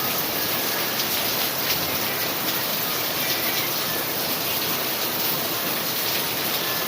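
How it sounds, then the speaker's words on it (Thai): Heavy rain pours steadily, a dense, constant hiss of drops hitting surfaces with no letup. "ฝนตกอย่างหนักเลยนะครับ"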